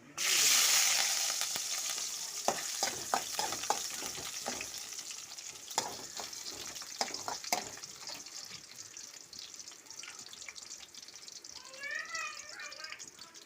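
Dried red chilies, ginger and garlic hit hot oil in a pan for a Kerala-style beef dish, setting off a loud initial sizzle followed by steady frying crackle and spatter with scraping stirs throughout.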